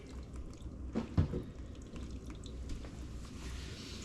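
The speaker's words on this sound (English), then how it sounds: "there's just the hot water just finishing to drain out from the hot water tank" Hot water trickling and dripping out of a water cooler's emptied hot tank, a soft steady drain with a couple of brief louder drips near the start, no talk.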